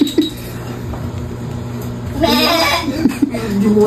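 A recorded goat bleat plays from a hidden speaker as a prank, sounding as one drawn-out, wavering bleat partway through. Faint voices and background noise surround it.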